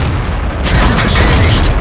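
A tank cannon firing during a World of Tanks battle, a single deep boom that swells and rolls on under dense low-end game rumble, loud and close.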